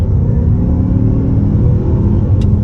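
A 2022 Mazda CX-5 Turbo Signature accelerates on the road, a loud steady low engine rumble and road drone heard from inside the cabin, with no one talking.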